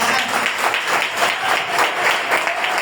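A church congregation applauds during a worship service, a broad wash of many hands clapping that carries on steadily and loudly, with faint rhythmic pulses and no voice over it.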